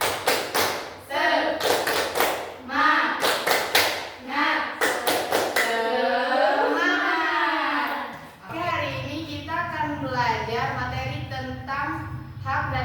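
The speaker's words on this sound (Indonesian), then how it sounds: "1, 2, 3. Tepuk semangat." A school class performs a rhythmic spirit clap, sharp claps and thumps falling in quick patterned groups while children chant and shout along in unison between the beats.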